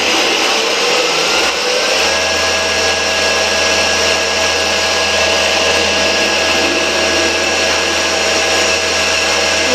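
A metal lathe runs a facing cut on a metal workpiece, giving a loud, steady whirring hum with a faint high tone from the cutting, continuous throughout without talk.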